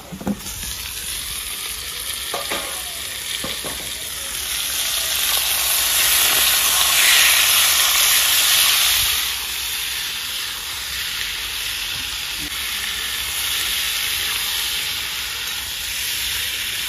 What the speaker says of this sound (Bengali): তেল গরম হয়ে গেছে, পুরা মাংস ধরে দিচ্ছি।